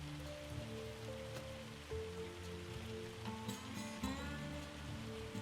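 Rain falling in the Farming Simulator 25 game world, a steady patter with layered game ambience and a few brief tonal chimes, moderately quiet and continuous, with no talk.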